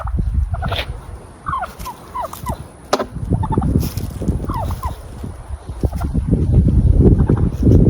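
A turkey gobbles several times in short rattling bursts, close by, over steady wind rumble and outdoor noise around a home garage where a race car is being worked on.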